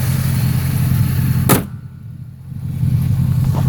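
A car that was just repaired, with a black hood and a shake in the steering wheel, drives along the road: a steady engine and road rumble from inside, dipping briefly in the middle before building again.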